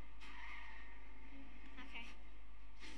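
Car in the Fortnite video game driving with tire skids and squeals, a high screech around the middle and another rising near the end, over a steady engine drone and game noise.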